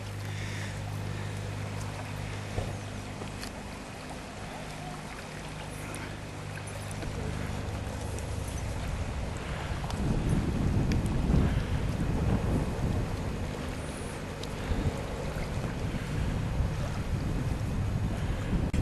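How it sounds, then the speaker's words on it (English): A ferry boat launching on Derwent Water near Keswick, heard from a lakeside jetty: a low engine drone with steady hum in the first seconds, then swelling water wash and wind buffeting the microphone. "they've just launched the boat"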